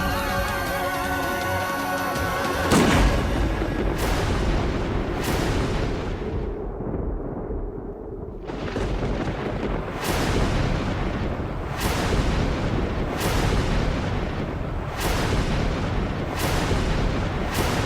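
Gunshots in a Hindi TV drama scene, a run of sharp booming shots at fairly regular intervals, loud and close, over a tense dramatic music bed with a short quieter gap in the middle.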